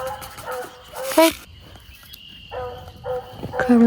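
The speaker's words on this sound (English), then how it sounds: "Excuse the dog, he's barking all the time." A dog barks repeatedly near a backyard raised garden bed, short bursts scattered across the moment, mixed with a person talking and soft rustling sounds.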